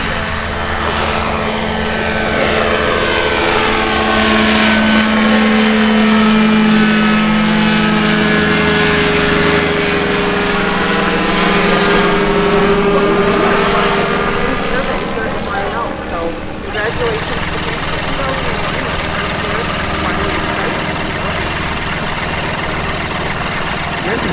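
An ultralight aircraft flying over the ultralight runway at EAA AirVenture Oshkosh 2021 drones loudly with a propeller hum that swells as it passes and then fades off, while a person talks over it.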